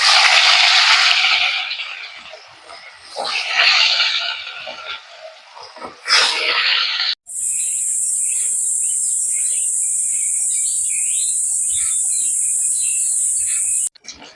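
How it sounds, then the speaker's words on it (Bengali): Fish are slipped one by one into hot oil in a wok while cooking a village-style fish curry. Loud, surging bursts of sizzling come first, then a steady, bright high-pitched hiss. "তেল গরম হয়ে গেছে, এক এক করে মাছগুলো দিয়ে দেবো"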